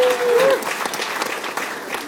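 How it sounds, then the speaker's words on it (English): Audience on a cruise ship comedy show bursts into steady, dense applause with some crowd noise, holding at an even level for the whole stretch; a brief voice tone sounds at the very start. "Give her a nice round of applause."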